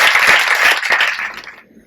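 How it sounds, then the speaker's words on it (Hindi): Loud audience clapping at a meditation gathering, a dense burst of applause that fades out toward the end. "एक बार जोरदार तालियां बजाओ।"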